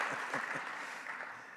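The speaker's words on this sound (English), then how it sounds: "Give her a round of applause," An audience at a Caribbean investment forum opening ceremony claps, making a faint, dense wash of applause that fades slightly toward the end over roughly a second and a half.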